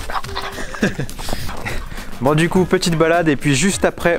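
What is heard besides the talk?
happy dog barking and whimpering in snow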